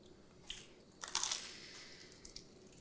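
A bite into crispy sheet pan pizza crust gives a couple of sharp crunches, the loudest a brittle crackle in the middle, followed by faint chewing, quiet and close.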